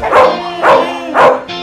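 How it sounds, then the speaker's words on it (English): A dog at an animal shelter barks three times in a steady rhythm, loud and close, with a shorter fourth yelp at the end and no talking. "It's your bark, bark, bark, bark, bark, bark, bark, bark, bark."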